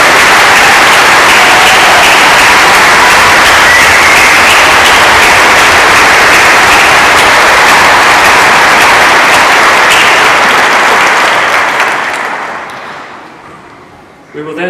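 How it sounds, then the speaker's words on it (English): Sustained, loud applause from a large audience at a Manchester university degree ceremony, a dense steady wash of clapping that holds for about twelve seconds before tapering off, with a brief voice resuming at the end. "give him a little round of applause"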